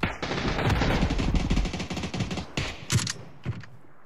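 Rapid bursts of automatic gunfire from a cloud-streamed video game, a dense loud rattle for about two and a half seconds, then scattered single shots and short bursts tailing off.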